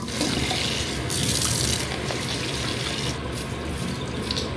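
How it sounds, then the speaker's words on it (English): Tap water runs steadily into a kitchen sink while potatoes are scrubbed clean, a continuous close splashing hiss with slight surges and no talk. "So while I was recording, washing my potatoes"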